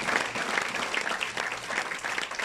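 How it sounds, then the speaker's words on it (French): An audience applauds poet Ousmane Tall winning the Ibrahima Sall poetry prize, a brisk, even clatter of many hands that stays steady and fairly close for the whole moment. "Tous vos applaudissements."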